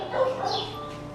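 A small dog gives a quick, short bark or yip, close by, lasting barely a second.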